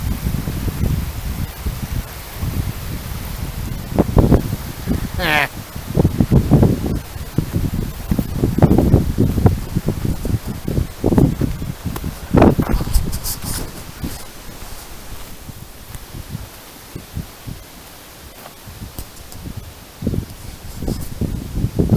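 Wind rushes and buffets steadily against the microphone on a bikepacking trip through the Temagami region, a loud continuous roar with gusting swells, rustling bursts and no talking.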